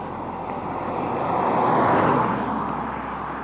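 A car on a road near Sligachan on the Isle of Skye, Scotland, passes close by, its broad rushing noise swelling to a peak midway and fading, with some wind noise.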